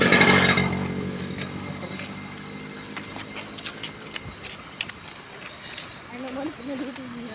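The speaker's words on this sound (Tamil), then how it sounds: "நிறைய வண்டி வந்துக்குங்க." Traffic on a road, with vehicles and motorbikes passing nearby in a continuous rumbling wash, louder at the start and then settling, under occasional voices.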